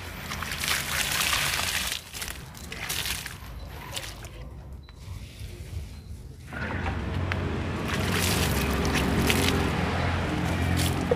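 Water poured over the soil of a kimeng bonsai potted in rice husk, a close continuous splashing trickle that thins into a quieter patch midway, then returns full and steady.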